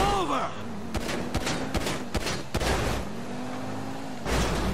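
Rapid bursts of gunfire in the video game GTA V crackle in several sharp volleys over a steady engine drone, fairly loud and close.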